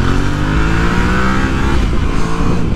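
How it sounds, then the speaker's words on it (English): A 2024 Yamaha Tenere 700 with its CP2 twin engine revs and pulls hard on a muddy ride, giving a loud, close, continuous engine drone that climbs in pitch. "Yeah, it's got some good lowdown shove, this Crossplane 2 engine."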